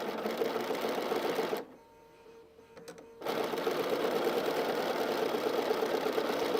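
Sewing machine chain-piecing star quilt blocks over a seam allowance, a steady close mechanical hum that stops for about a second and a half, then resumes.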